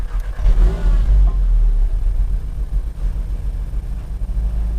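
A Volkswagen Golf GTI TCR hot hatch engine fires up with a loud burst and quick rev, then settles into a deep, rumbling idle close by.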